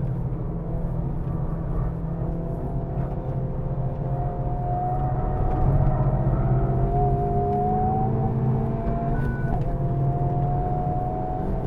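A 2023 Honda Civic Type R engine held at full throttle on a race track, a steady loud in-cabin drone with rising tonal whine as revs climb toward a final corner.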